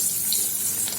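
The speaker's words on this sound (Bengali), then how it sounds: "এবার ফ্যান ঝরাবো" Starch water from freshly cooked rice is drained off in a kitchen, a continuous close pouring and splashing rush of water that holds steady throughout.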